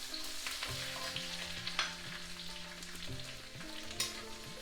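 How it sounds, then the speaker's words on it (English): Ginger and green chilies sauté in hot oil in a pan, giving a steady close sizzle with soft stirring scrapes and a few louder clinks of the spoon against the pan. "Saute the ginger a little bit. Then you put the green chilies."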